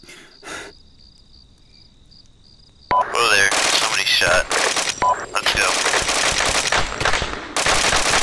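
Attack opening in the Arma 3 coop mission, with loud rapid automatic gunfire bursting out suddenly after a quiet stretch of insect-like chirping, then continuing in heavy overlapping volleys.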